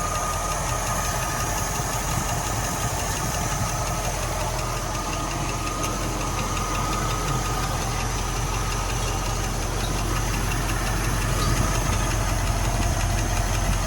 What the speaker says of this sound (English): Idling smooth. Still got a little lifter chatter going on.